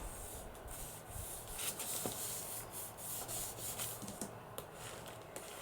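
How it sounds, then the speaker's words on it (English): Glued paper is burnished down by hand onto a Christmas pocket journal page, a soft, close, continuous rubbing and scuffing with faint taps, quiet and without talk. "Burnish that glue down."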